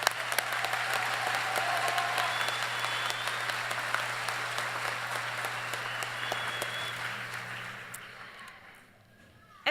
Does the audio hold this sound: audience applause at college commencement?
yes